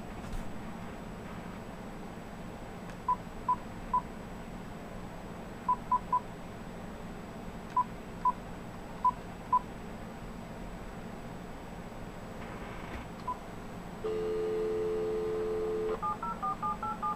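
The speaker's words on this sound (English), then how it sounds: "So let's go ahead and dial that number" A number is keyed on a phone connected to a home phone service: short touch-tone beeps come in uneven groups over a low line hiss, and a steady two-tone signal follows near the end.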